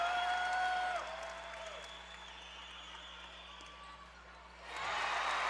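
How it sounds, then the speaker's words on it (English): Crowd noise swells in a college volleyball arena during a Wichita State match against Temple, a broad roar that eases off and then rises again, with faint whistles and court sounds beneath it. "Crowd trying to give the Shockers a boost."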